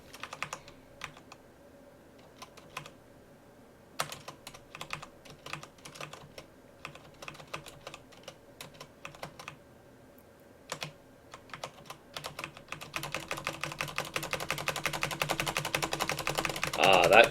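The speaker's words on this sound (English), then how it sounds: "Ah, that keyboard sound." Computer keyboard typing: sparse, sharp individual keystrokes at first, then a fast, dense burst of clattering keys that grows louder toward the end, close to the microphone.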